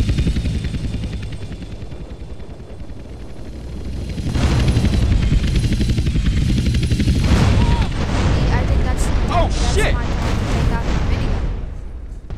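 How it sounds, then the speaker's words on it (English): Many helicopters in GTA San Andreas with a hunter mod roar together in a loud, continuous thudding rotor drone, mixed with gunfire and blasts, while a voice talks over it. "There are still many choppers. Why are there so many choppers?"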